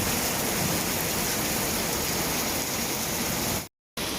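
Heavy rain drums steadily on a roof during a storm in Khon Kaen, Thailand, a dense, loud, unbroken wash of noise that cuts out briefly near the end.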